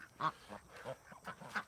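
Ducks quack near their nest full of eggs, several short nasal calls in an uneven run over about two seconds, fairly close but soft.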